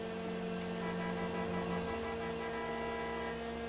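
A car horn sounds as one steady, sustained blare with a buzzy harmonic tone, close and loud, holding for nearly four seconds with no talk over it.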